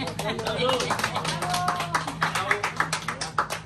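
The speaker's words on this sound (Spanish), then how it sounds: "¡Aplausos! ¡Apláudanme!" Guests at a party celebration clap along in quick, steady rhythmic beats, loud and close, while voices talk and call out over the clapping throughout.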